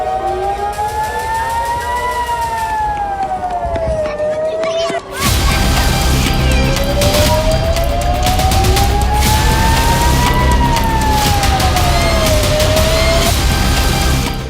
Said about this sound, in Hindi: इजराइल की राजधानी तेल अवीव में एक सायरन बजा